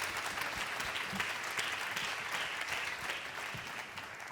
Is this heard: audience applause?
yes